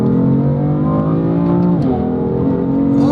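A rear-wheel-drive BMW M4 accelerates hard, its engine droning loudly and continuously up close, with the pitch rising and shifting throughout.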